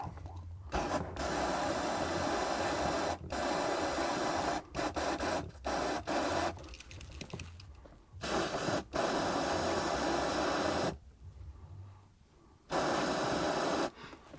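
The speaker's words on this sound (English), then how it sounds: "I'm just going to go ahead and spray some penetrating fluid on it" Short hissing bursts of aerosol penetrating fluid sprayed on a bolt of a Volvo XC90, several in a row with brief pauses between them, close and fairly steady.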